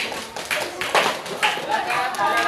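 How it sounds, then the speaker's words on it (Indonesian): A school group, likely students and teachers at a school assembly, claps together for a few seconds, the hand claps sharp and fairly close with uneven bursts and a faint voice murmuring underneath. "Ya, kita tepuk tangan semuanya."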